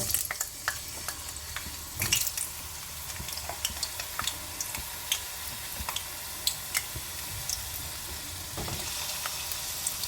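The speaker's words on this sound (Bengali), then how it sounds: "এরপর আমি সবজিগুলো এক এক করে ভেজে নেব।" Mixed vegetables such as potato and papaya frying in a pan, giving a steady, moderately quiet sizzle with frequent small pops and crackles throughout.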